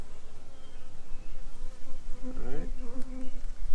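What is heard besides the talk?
honey bees buzzing at an opened hive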